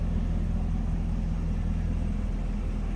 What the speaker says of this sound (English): Sitting at idle, just a nice subtle little rumble